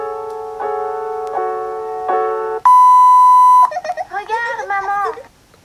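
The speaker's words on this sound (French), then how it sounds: "T'es obligé de mettre le bip." A sequence of loud, steady electronic tones of varying pitch, ending in a wavering synthetic warble, is used as a censor beep in a Peppa Pig cartoon parody.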